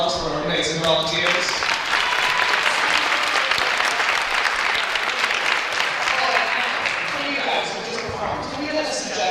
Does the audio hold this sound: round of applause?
yes